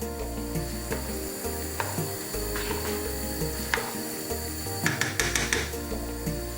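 Chicken curry stirred in a pot with sazon, a bay leaf and vegetable seasoning: a rhythmic series of close scraping, clacking strokes of a spoon against the pot, moderately loud and uninterrupted by talk.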